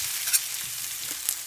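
Onions sauté in a pan with a steady, fine sizzle, joined by a couple of brief stirring scrapes, close and alone with no talk.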